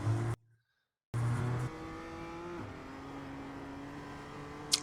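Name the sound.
BMW M2 race car engine in the iRacing video game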